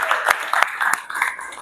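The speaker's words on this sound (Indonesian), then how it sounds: "tepuk tangan buat Ringga" Brief classroom applause for a student, a few scattered claps from a small group lasting under two seconds, mixed with light voices.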